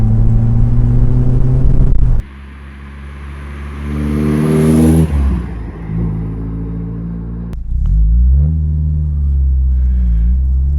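A 2018 Morgan Plus 4 engine revs hard from inside the car, loud and close, climbing in pitch through two pulls, each cut by a sudden drop as revs fall, then settling into a steady rumble.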